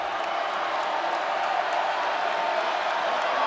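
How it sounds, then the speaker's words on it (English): A basketball arena crowd roars for a free throw attempt in a college game, Tennessee against Northern Florida, making a dense, sustained wash of cheering that holds steady throughout. "The crowd is loud for the free throw attempt."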